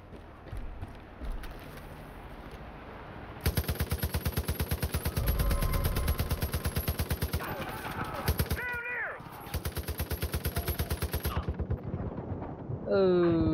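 Rapid automatic gunfire in the video game Far Cry 5, long bursts of dense, evenly spaced shots that fill most of the stretch with a brief pause between volleys, loud and close against a noisy game background.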